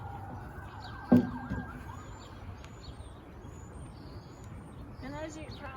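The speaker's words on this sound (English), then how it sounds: "I live in the city, so we have sirens occasionally." Emergency vehicle sirens wail in the city, faint and distant, with a few rising and falling tones at a steady low level and a brief clunk near the start.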